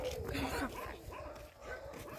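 A Belgian Malinois on a farm lets out short barks and yips mixed with whimpering. The sounds are close but quiet, and people talk over them.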